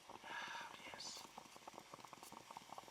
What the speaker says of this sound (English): When you hear that bubbling, clock, clock, clock, off, finished